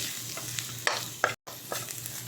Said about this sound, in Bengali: তারপরে আমি একটু ভালো করে এভাবে নাড়াই নিব